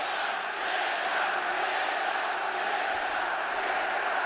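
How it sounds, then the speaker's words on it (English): Arena crowd at a UFC 292 fight between Sean O'Malley and Petr Yan, cheering for Yan as a steady, dense roar from a large audience, even in loudness throughout with no single voices standing out. "Pro-Yan crowd being heard from early as expected."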